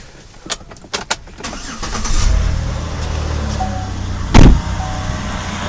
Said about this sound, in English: I'm going to go ahead and start the car now